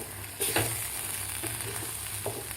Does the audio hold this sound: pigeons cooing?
no